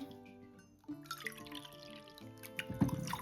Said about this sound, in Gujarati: આવી રીતે બે કપ પાણી મૂકવાનું છે